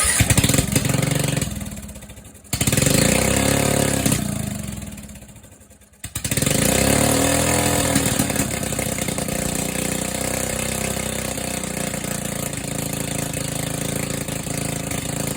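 A Poulan mud mower's small engine is running close by, dropping and restarting, then settling into a steady loud chugging idle and rev that keeps going for the rest of the clip, with no talk over it.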